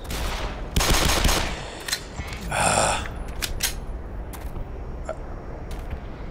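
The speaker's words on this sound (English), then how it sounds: "Do I hear a turret?" Turret fire in the Black Mesa video game: several short, sharp bursts of automatic gunfire scattered through the clip, with a brief whooshing swell in the middle. Low rumbling game ambience continues underneath.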